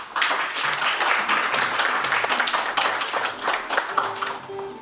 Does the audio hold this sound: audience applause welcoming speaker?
yes